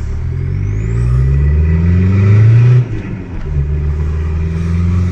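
A car idling and creeping forward in a slow traffic jam, its steady low engine rumble rising briefly and then dropping back, heard close from inside the cabin with no talk.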